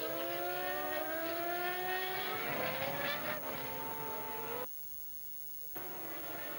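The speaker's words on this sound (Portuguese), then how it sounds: "E os carros vão até passando aí pela ambulância" Formula 1 cars at the 2004 US Grand Prix run past slowly behind the safety car, their high whining engine tones layered and rising in pitch at a distance. The sound then cuts out briefly before resuming.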